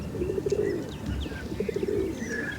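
Racing pigeons waiting for release coo in repeated soft, throaty pulses, close by, with a few faint chirps and light background noise around them.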